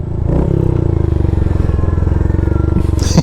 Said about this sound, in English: This is just a fun, plain old fun motorcycle.